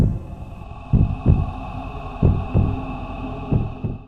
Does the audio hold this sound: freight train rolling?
no